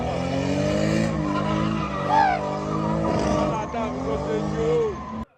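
Sports cars drift at a motorsport showcase event, engines roaring and tires squealing in sliding bursts, with a narrator talking over the loud action.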